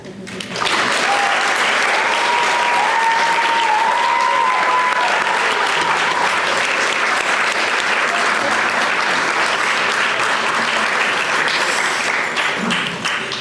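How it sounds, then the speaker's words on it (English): Wedding guests burst into a long, loud round of applause that fills the room, steady dense clapping with a few cheers rising over it, continuing unbroken to the end. "I want everyone to show Jess how much we appreciate her with a big round of applause"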